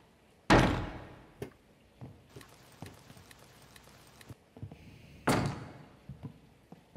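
Heavy doors slam shut twice inside a horror video game, each a loud booming thud several seconds apart, with scattered knocks and rumbling ambience between them.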